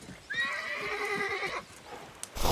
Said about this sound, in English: Poor horse.